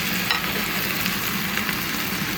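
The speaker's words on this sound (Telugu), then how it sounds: "సో ఇందులో చికెన్ వేస్తున్నాను." Chicken pieces hit a hot pan of cooked ginger garlic paste and sizzle loudly and steadily, a close, continuous frying hiss with faint stirring scrapes and no talking.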